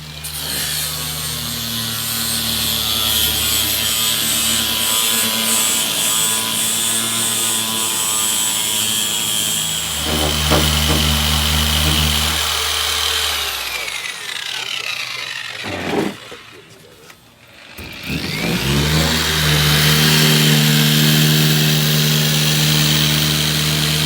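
Power grinder working on the rusty quarter panel of a 1959 Ford Galaxie during restoration: a loud, continuous whining grind that shifts pitch partway through, briefly drops out, then resumes strongly.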